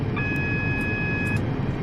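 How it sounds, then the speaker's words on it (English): The AWS alarm warning buzzer sounds in the cab of a Class 175 train in Train Simulator 2, a steady high tone briefly held over a loud constant rumble of the moving train. "The lovely AWS alarm."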